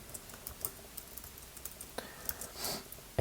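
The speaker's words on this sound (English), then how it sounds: "I'm using the Command S keyboard shortcut to save" Computer keyboard typing while writing markup in a browser code editor, a sparse run of light key clicks at an uneven pace, with a short louder burst near the end.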